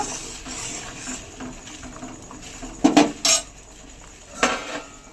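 A spoon stirs rasgulla in a metal pot, giving a low bubbling wash broken by a few bright clinks and scrapes against the pot's side, close and moderately loud, with no voices.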